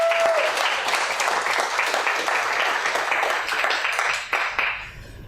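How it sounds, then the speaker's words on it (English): Tech conference audience breaks into steady applause that holds for about five seconds before tapering off at the end. "You should applaud."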